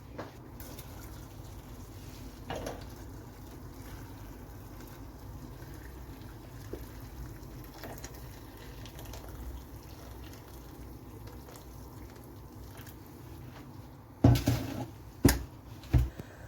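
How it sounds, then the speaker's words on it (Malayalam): Water is poured into a pot for Indomie noodles, a soft, steady stream running for a long stretch at a low level, followed by a few sharp clanks of the pot near the end. "നമുക്കിതിലേക്ക് നിറച്ച് വെള്ളം ഒഴിച്ചു കൊടുക്കാം."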